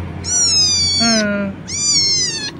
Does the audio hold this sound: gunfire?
no